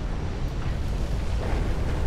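A cruiser explodes in Dreadnought Improvement Project, a continuous low roaring rumble with faint scattered pops, steady and moderately loud throughout.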